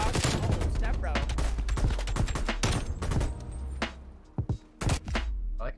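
Rapid bursts of automatic gunfire in a Call of Duty Cold War 4v4 match, dense volleys crackling close and loud, thinning to a few separate sharp shots near the end, with voices talking underneath.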